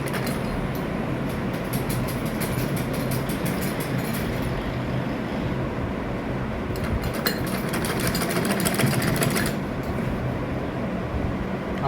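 A sewing machine stitches a coat collar with a dense, constant mechanical rattle that never lets up, close and fairly loud, with no talking over it.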